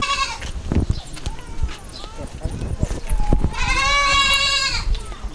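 Goats on a small-ruminant smallholding in rural Telangana bleat repeatedly and close by, with one long, strong quavering bleat near the end, mixed with scattered thumps and footsteps and occasional voices of people nearby.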